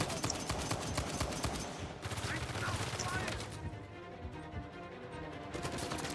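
Dense rapid gunfire from enemies shooting at the player in the video game Uncharted 4. Bursts crackle continuously and loudly throughout, with automatic fire overlapping heavier shots.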